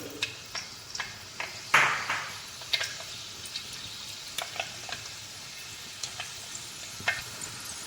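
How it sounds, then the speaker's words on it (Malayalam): Two teaspoons of fenugreek seeds hit a hot uruli for curry leaf pickle, setting off a soft sizzle with scattered small pops and crackles, one louder burst early on, then sparse pings. "ഇപ്പോൾ ഉരുളി ചൂടായി വന്നിട്ടുണ്ട്. നമുക്ക് ഉലുവ ചേർത്ത് കൊടുക്കാം."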